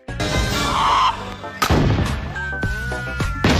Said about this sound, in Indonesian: Tembakan ini membahayakan.